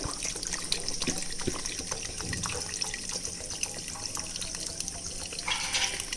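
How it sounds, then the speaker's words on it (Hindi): Water splashes and trickles steadily into a cooking pot of trotters for paya, a continuous nearby pour with small bubbling and clinks, no talking. "पानी डाल देते हैं।"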